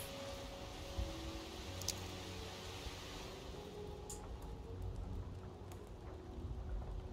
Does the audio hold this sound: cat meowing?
no